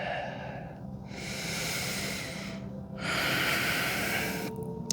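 Slow, full breaths during a vinyasa yoga flow, each long inhale and exhale swelling and fading as a close, airy rush that repeats steadily with no talking.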